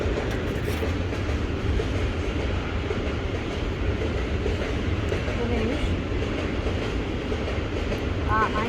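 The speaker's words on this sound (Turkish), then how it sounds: "Tam da tren geçiyor." A train rumbles past steadily, a dense, continuous roar of wheels and carriages with a faint squeal near the end.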